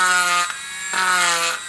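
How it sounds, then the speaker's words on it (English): A running rotary tool dragged lightly across plastic to cut a bevel for an airsoft rifle part, giving a steady whining buzz with a brief dip midway, close and fairly loud with no voices. "slowly drag it along the surface that you're trying to cut your bevel into"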